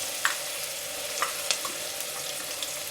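Ground masala paste hitting a pan of Kerala-style raw mango fish curry, giving a steady low sizzle and frying hiss with a few soft stirring clicks, no voices.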